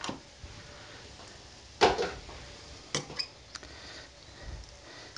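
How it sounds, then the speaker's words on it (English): A utensil stirs oil into egg in a bowl for spaghetti carbonara, giving a few light clinks and scrapes against the bowl over a quiet background. "Give that a little mix with the egg."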